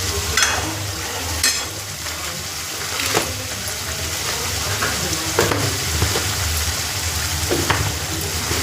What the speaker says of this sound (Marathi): मसाला आता 2 मिनटं चांगलं तेल सुटलं ना तोपर्यंत होऊ देते मग.